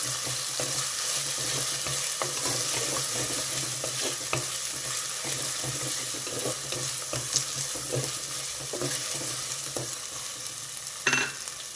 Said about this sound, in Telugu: పుదీనా వేస్తున్నా. పుదీనా కూడా కొంచెం వేగాలి.